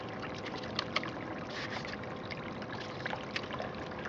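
Water poured onto gold concentrate in a bucket, a steady low wash of trickling and splashing with a few small spikes, fairly quiet throughout with no talk.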